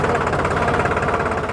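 A 47 hp New Holland 3600 tractor engine runs nearby with a loud, steady diesel throb and a fast knocking pulse, unbroken and close for the short stretch.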